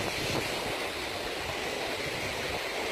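Sea surf at Thong Nai Pan Noi beach on Koh Phangan, Surat Thani, washes in a steady, full roar with some wind buffeting the microphone, with no voices.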